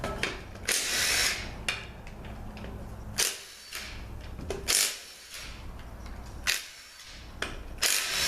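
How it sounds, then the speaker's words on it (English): Bolts on a 700R4 transmission pump are spun out one after another with a power tool, short bursts of high whirring separated by pauses and light metallic handling, close and clear. "Let's go ahead and get the pump bolts out."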